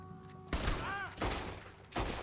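Gunfire in Red Dead Redemption 2, three heavy booming shots spaced about three-quarters of a second apart, loud and close, with a brief voice between them.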